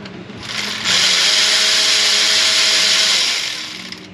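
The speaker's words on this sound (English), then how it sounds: "Let's switch out to power tools to expedite this process." A power tool whirs loudly while removing fasteners on a Jeep YJ 4.0 Wrangler, running in one continuous close burst of about two and a half seconds before spinning down.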